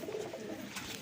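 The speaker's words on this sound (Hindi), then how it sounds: "काबली कबूतर है और माशाल्लाह बड़ा मज़ेदार कबूतर है" Kabuli pigeon cooing at close range, a short soft throaty coo over quiet background, without any talking.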